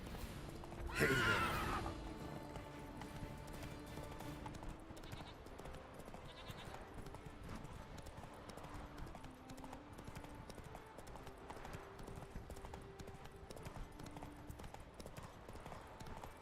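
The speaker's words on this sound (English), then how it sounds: "Come on, Roach. Come on." Witcher 3 game horse Roach moving along with soft rhythmic clip-clop hoofbeats and a whinny near the start, fairly quiet under game music; a voice speaks briefly.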